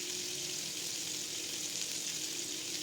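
Pork chops sizzle steadily in a hot pan, a dense, even frying hiss that holds at constant loudness from start to finish, with no voices over it.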